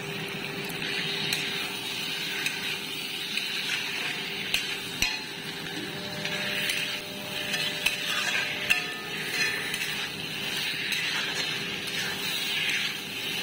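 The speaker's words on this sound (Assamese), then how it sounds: "আৰু এতিয়া লোকেল চিকেনখিনি মই ইয়াতে দি দিছোঁ।" Local chicken frying with spices in a pan, a steady sizzle with frequent scraping and stirring clicks of a spoon against the metal, close and continuous.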